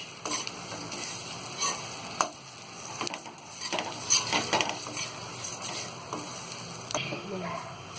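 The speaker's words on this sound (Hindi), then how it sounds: "अब इन सारी चीजों को हम अच्छी तरह मिक्स कर देंगे।" Roasted poha chivda is stirred and mixed in a pan, with scraping spoon strokes, light clinks against the metal and a soft sizzling patter underneath, close and moderately loud.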